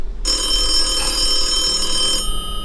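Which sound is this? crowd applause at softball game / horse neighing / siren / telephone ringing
telephone ringing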